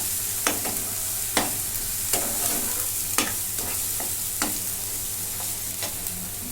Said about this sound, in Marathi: मोठ्या गॅसवरती पण परतून घेते मी